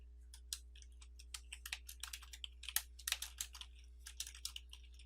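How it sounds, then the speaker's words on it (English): Fingers typing on a computer keyboard while filling in form fields, irregular bursts of crisp close key clicks over a low steady hum, with short pauses between keystroke runs. "we're simply typing in the field"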